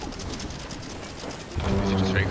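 Birds cooing in the video game Sea of Thieves, soft dove-like coos that rise near the end over a steady ambient wash, with faint talk underneath.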